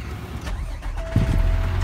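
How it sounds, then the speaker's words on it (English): A truck engine restarts heard from inside the cab: a brief cranking sputter, then the engine catches and settles into a louder, steady running rumble. "Okay, so now I'm going to restart my truck."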